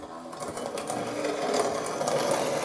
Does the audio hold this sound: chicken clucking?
no